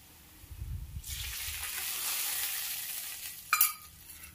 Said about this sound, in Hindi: अब हम इसमें डाल देंगे मसाले जो हमने पानी में मिक्स करके रखे हैं।